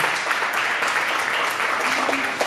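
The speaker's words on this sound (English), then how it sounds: "Can we give a round of applause to the pastor?" Steady, dense clapping from a church youth-night audience for the pastor, close and fairly loud, holding at an even level for the whole stretch with no voices on top.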